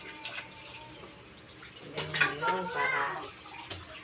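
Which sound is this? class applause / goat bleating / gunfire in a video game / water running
water running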